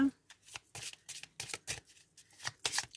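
Angel cards being shuffled for a reading, a series of quick riffling bursts in an uneven rhythm, close and fairly quiet.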